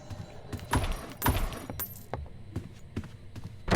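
Keys jangle in the Doors video game, a few close metallic rattling bursts with short pauses between them and no talk over them.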